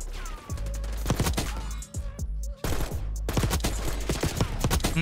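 Rapid gunfire in the Black Ops 6 beta, dense bursts of automatic shots and rattling reports with a brief lull, loud and close throughout.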